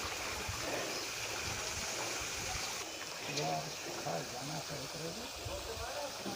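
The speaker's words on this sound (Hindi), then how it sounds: "जब नलका खोलो तब पानी। जैसे मैं अभी खोल रहा हूँ, पानी आ रहा है।" Water runs from an opened tap in a village in Himachal's Barot Valley, a steady splashing rush throughout while someone talks over it.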